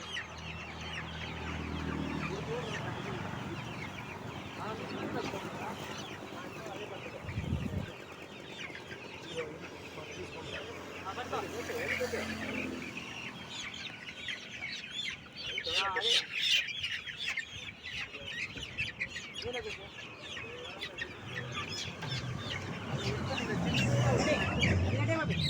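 Black country hens cluck and call repeatedly at close range, with a rooster-like crow and chirping birds mixed in, while people talk over much of it in a farmyard setting.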